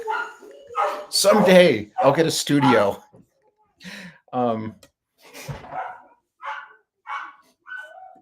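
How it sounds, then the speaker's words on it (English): Several dogs barking in short bursts through a room, loud and close at first, then a run of shorter, quieter yaps, with someone talking over them. "My dogs just went off."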